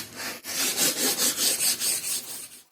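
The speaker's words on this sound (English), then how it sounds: "Finally, we gave the front surface a thorough sanding." Rhythmic rasping strokes of sandpaper on a wooden board, about eight back-and-forth passes, close and steady, then it stops.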